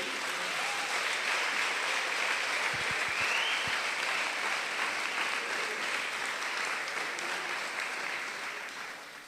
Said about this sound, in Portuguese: você vai aplaudir o Senhor, você aplaude.